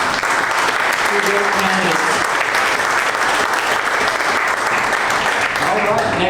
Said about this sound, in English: Round of applause for the school.